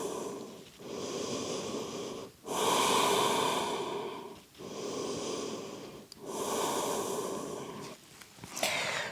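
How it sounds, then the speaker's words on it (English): Slow, deep breaths taken in child's pose during yoga, close and clear, with about four long airy inhales and exhales alternating steadily and no talking. "Breathe slowly and deeply."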